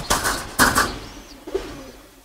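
A female Giribaz pigeon of a pigeon loft gives a few short, close coos and soft rustles, separated by brief pauses.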